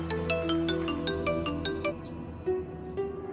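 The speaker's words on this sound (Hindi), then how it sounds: "रिंग जा रही है।" A phone ringtone plays a bright, repeating melodic pattern of chiming notes, clear and close, with no voices.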